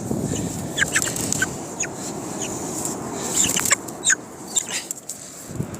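Chickens cluck in short, scattered calls at close to middle distance over a steady outdoor hiss, with a few sharper squawks in between.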